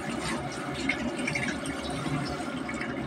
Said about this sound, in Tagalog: Hugasan natin muna para matanggal ang kapit na alikabok o dumi.